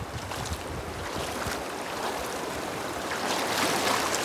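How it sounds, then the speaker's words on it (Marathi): Strong, forceful water rushes loudly through a stream near a waterfall at Ambernath MIDC, a continuous dense churning roar that swells slightly toward the end, with no voices. "ओ जोर खूप आहे पाण्याचा,"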